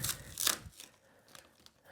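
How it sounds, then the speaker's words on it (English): Protective plastic film and tape are peeled off a new Bambu Lab 3D printer during unboxing: a few quick, close tearing and crinkling rips, loudest at the start, then fading into faint rustles. "So I'm peeling the plastic off here."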